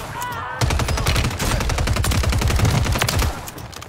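Rapid automatic gunfire from an online shooter game, a dense sustained burst of loud shots running for about three seconds after a brief pause, with faint in-game chatter in the background.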